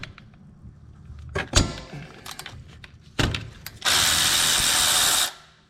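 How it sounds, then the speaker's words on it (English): A power tool zips out the 12mm bolts on a Honda Civic brake caliper, with a few sharp metallic knocks and clanks first, then a loud, steady, close-up whirring burst of about a second and a half. "let's go ahead and remove this brake caliper, held on with two 12mm bolts"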